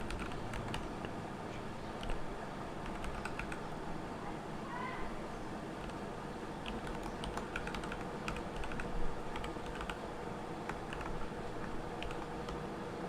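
A computer keyboard being typed on in quick, light bursts of clicking keys that come and go, fairly quiet against a steady background hiss.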